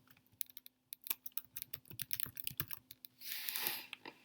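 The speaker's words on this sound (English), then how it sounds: "So I start typing in his name here." Rapid irregular keystrokes on a computer keyboard as a name is entered into a search, close and fairly quiet, with a burst of denser clattering near the end.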